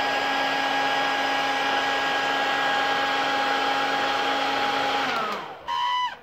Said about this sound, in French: place la feuille de papier en dessous du sèche-cheveux et allume-le de nouveau